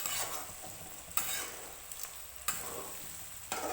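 Ground spice masala frying in oil with chicken, a faint hiss punctuated by three or four sharp stirring scrapes spaced about a second apart.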